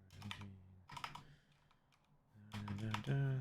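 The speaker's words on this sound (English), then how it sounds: "Sorry, my typing is so loud." Loud computer keyboard typing heard up close in quick clattering bursts, separated by short pauses before a denser final flurry.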